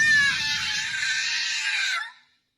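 A single long, high-pitched dying scream rings out in a forest, holding strong for a couple of seconds before cutting off abruptly into silence.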